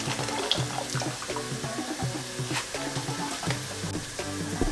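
Continuous crackling sizzle of a paella saute frying in a hot pan, fairly close and steady, with faint watery stirring sounds mixed in.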